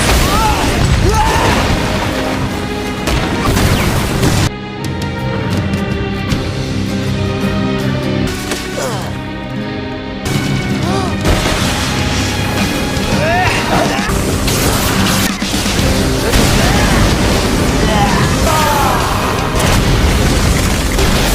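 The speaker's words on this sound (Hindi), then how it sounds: "शापित शक्ति का धमाका" A cursed energy blast from an anime in Hindi dub erupts as a loud, sustained booming explosion that fills the whole stretch, with dramatic music and voices layered over it.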